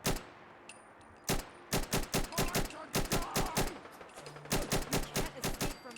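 Gunfire at super mutants in Fallout 4: a steady string of sharp, evenly spaced shots, about sixteen in quick succession with short pauses between groups, close and loud against a quiet background.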